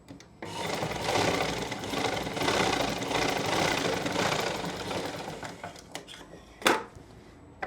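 A sewing machine runs steadily for several seconds stitching the pocket of a straight pant with a front belt and elastic back, a continuous close mechanical whir that stops near the end with a brief clack.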